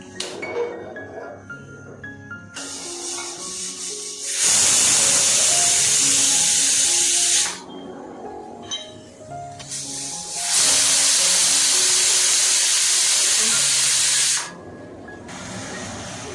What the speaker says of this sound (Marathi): कुकरचं झाकण लावून 2 शिट्या काढूया.